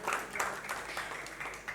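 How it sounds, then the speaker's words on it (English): Faint applause from the audience at a live series announcement event, with scattered claps that come in short, uneven bursts and sit at a low, distant level. "An artist applauding for the other artist right there."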